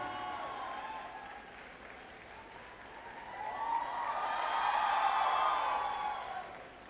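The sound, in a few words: audience applause for teachers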